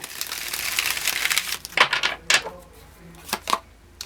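Tarot cards are shuffled by hand in a quiet room, with a string of soft papery riffles and flicks, some sharper slaps among them, close and fairly faint.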